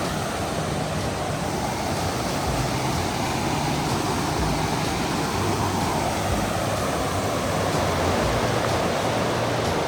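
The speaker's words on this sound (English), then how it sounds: "Wow, that water is full force" Full-force river in Kings Canyon National Park rushing past a forest trail, a steady, dense roar of churning water that holds loud and unbroken throughout, with no voices.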